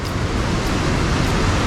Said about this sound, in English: The waves are still pretty big though.